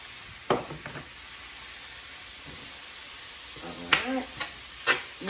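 Chopped onion and breakfast sausage cook together in a pan with a soft, steady sizzle and hiss, broken by a few light stirring scrapes and clinks.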